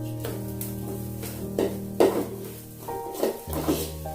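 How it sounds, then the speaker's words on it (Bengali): Rice fried and stirred continuously in a pan for peas pulao, with a soft sizzle and repeated scraping, clattering strokes of a utensil against the pan, close and moderately quiet. "দেখো তোমরা দেখতে পাচ্ছ কিভাবে ভাজছি, এইভাবে কিন্তু কন্টিনিউয়াস নাড়তে হবে"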